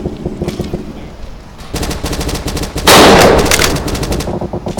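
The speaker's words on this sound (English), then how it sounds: "Bro, he's trying to shoot at me." Rapid automatic gunfire from the video game Dino D-Day rattles out in loud, sustained bursts. It swells to a dense, heavy volley partway through, with no talk over it.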